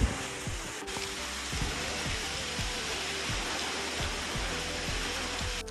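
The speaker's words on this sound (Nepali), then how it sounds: "अब यो हल्का पानी परेको परेकै छ होइन" Light rain falls outdoors in Nepal as a steady, soft broadband hiss, with a faint low rhythmic rumble beneath it and no talking.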